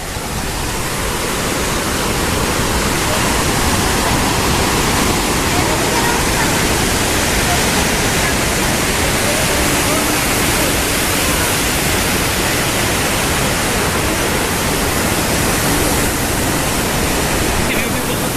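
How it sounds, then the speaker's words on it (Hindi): Mandakini river rushing steadily near Gauri Kund in the Himalayan hills, a loud, continuous broadband roar of flowing water filling the whole stretch without letup. "ये जो पीछे बह रही हैं ये है मंदाकिनी"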